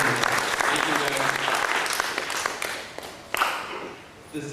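A student-program audience breaks into steady, dense applause that holds for several seconds, then thins out toward the end, with a few voices mixing in.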